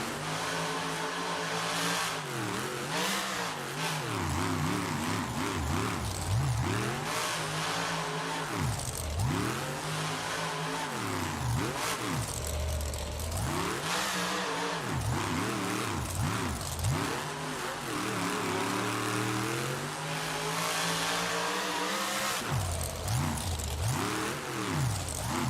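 Monster truck engine revving hard in an Angel Stadium arena in Anaheim during a stadium freestyle run with reversing and a power wheelie, a loud continuous roar with repeated rising and falling throttle surges throughout.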